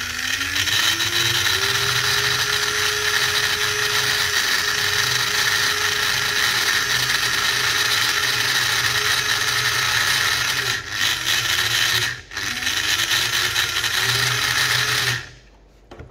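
A repaired stock Scalextric slot car motor runs on the work table with a slight growl from its lubricated gears, a loud continuous whine holding steady for many seconds, briefly dipping once before cutting off.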